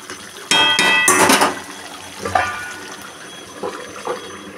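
Fish-head curry with potato and cauliflower is stirred in a metal pan and the lid is set on, giving two loud metallic clanks, then softer scraping and a few lighter knocks.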